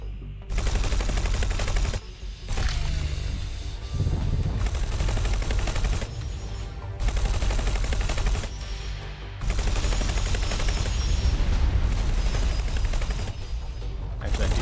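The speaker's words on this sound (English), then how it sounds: "These are most certainly not the best guns for this." Spaceship guns in the space game X4 Foundations fire in long, dense sustained bursts, several loud stretches broken by brief pauses, with ongoing rapid crackling throughout.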